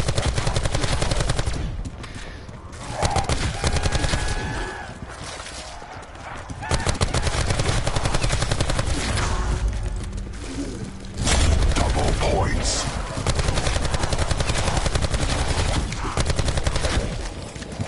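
Rapid automatic gunfire from a weapon in Call of Duty Black Ops 4 Zombies, sustained bursts with brief pauses, loud and close amid dense game sound effects.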